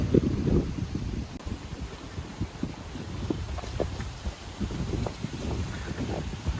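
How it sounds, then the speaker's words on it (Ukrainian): Gusty wind buffets the microphone in uneven rumbling bursts during a bike ride through open fields, a low roar rising and falling throughout. "Перепрошую за вітер, вітряна погода."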